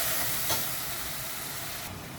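Spice paste fries in a pan for a fish kalia, a soft steady hiss and sizzle heard alone, fairly faint and even.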